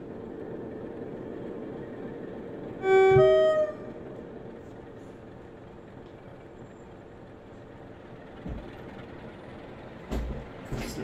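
Class 47 diesel locomotive in BR green livery in Train Sim 2022, a low steady engine drone at a station, broken by a short loud two-tone horn blast near the start and later brief air-release bursts.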